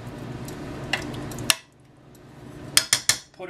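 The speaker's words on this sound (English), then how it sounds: "we're going to put the cover on the pan" A lid goes onto a pan of braciole braised in sauce, giving a sharp metallic clink, then a few quick rattling clanks as it settles, close and fairly loud over a low kitchen hum, with no talking.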